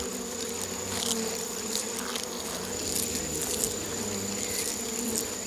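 Giant hornet workers buzzing around an underground nest packed with larvae, a continuous close droning hum with scattered louder passes, steady throughout without talk.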